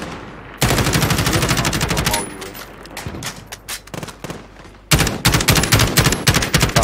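Shotgun and other gunfire in Call of Duty: Modern Warfare, heard as loud, rapid bursts of shots that pause briefly and then resume hard, with players talking over the action.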